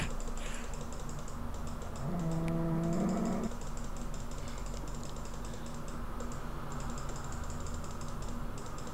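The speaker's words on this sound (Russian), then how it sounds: "Меня тут коровка толкает." A Minecraft cow gives one low, drawn-out moo of about a second, under steady keyboard typing and a faint hum.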